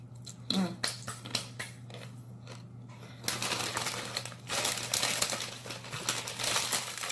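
Snack bag from a Naturebox box being crinkled and handled up close, sharp irregular crackles at first, then a denser, louder stretch of rustling and crumpling.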